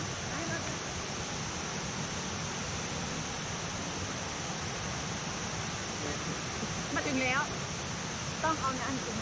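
A broad, steady roar of falling water at Kuang Si Waterfall in Laos fills the scene, with brief voices faintly audible over the constant rush.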